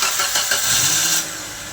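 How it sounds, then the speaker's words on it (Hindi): A Maruti Suzuki Baleno with accident damage to its body control module starts when current is fed straight to the starter solenoid wire. The starter cranks briefly, the engine catches, and it settles into a steady idle close to the microphone. "गाड़ी स्टार्ट हो चुका है।"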